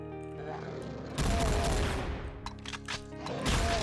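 Rapid bursts of gunfire in the Doom map TNT: Evilution, loud and close, a dense stuttering volley that starts abruptly, briefly thins, then resumes heavily.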